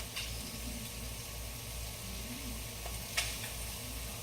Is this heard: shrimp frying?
yes